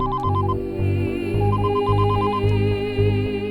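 A phone ringtone plays during a call, a close, loud repeating electronic melody of short beeping notes over a steady low tone.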